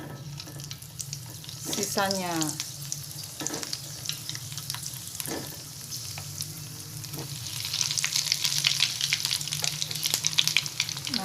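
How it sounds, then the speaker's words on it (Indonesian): Kue ketawa (onde-onde ketawa) dough balls fry in hot oil with a steady crackling sizzle, clattering stirring and scraping over it and a brief voice under the frying. "Kita lanjutkan menggoreng"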